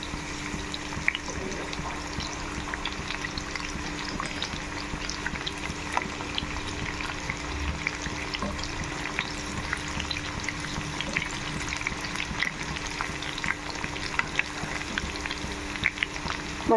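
Chicken pakoda pieces deep frying in hot oil give a steady, dense sizzle with fine crackling bubbles, continuous and close, with no voices over it.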